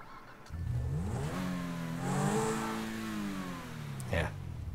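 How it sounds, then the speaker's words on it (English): A Zentorno supercar in GTA Online starts and revs, its engine note climbing in pitch, holding a strained high whine, then dropping off, with a brief sharp burst near the end; the sound is moderately loud and close. "Yeah, nice little revving start."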